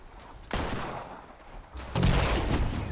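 Bursts of video game gunfire in a multiplayer shooter, a loud volley starting abruptly then a second heavier barrage of rapid shots with thudding impacts, close and dense with no talk.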